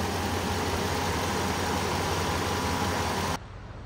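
A Lexus LS400's naturally aspirated V8 idles with a steady, loud low rumble that runs evenly, then drops abruptly near the end as the sound is cut to a quieter hum.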